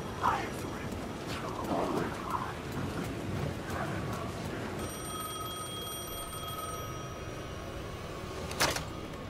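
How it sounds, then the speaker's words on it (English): A telephone rings in the video game Alan Wake II, a thin electronic trill that enters partway through and repeats faintly over an eerie ambient bed with soft murmuring. "The phone was ringing again."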